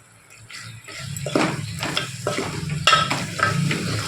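Mutton keema with ginger stirred in a hot pan, a close sizzle under a rhythmic series of spoon scrapes roughly every half second.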